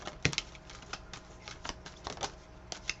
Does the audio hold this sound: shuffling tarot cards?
yes